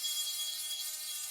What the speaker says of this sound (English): Got the Milwaukee right angle die grinder.